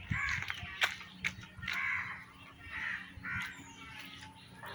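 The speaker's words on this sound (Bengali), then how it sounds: "অনেক পাখি, পাখপাখালির শব্দ" Several birds call outdoors in a village in Bikrampur, Bangladesh, with harsh crow-like caws and chirps repeating irregularly at moderate distance over a quiet background.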